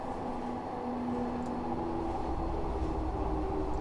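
Glasgow Subway train in Train Simulator Classic climbing a gradient into a station, a loud continuous rumble of the running train with steady whining motor tones and rail noise.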